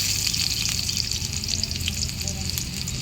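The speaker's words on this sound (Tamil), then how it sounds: "போட்டு நல்லா ஃப்ரை பண்ணிக்கலாம்" Onions and curry leaves fry steadily in a pan over a village wood-fired stove, giving a continuous close sizzle with no pauses and no voices.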